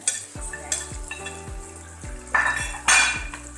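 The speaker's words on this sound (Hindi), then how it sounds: "जब मसाला भून जाएगा हमारा तैयार हो जाएगा" Spices being stirred and fried in a metal pot for Bombay-style biryani, with a steady sizzle under repeated scraping and clinking strokes of a spoon against the pot, close and fairly loud, with no voices.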